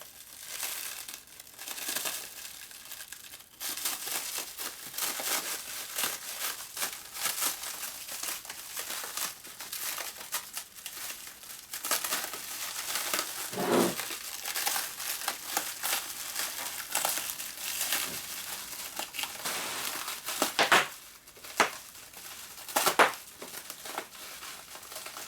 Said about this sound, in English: Trying to cut the cable.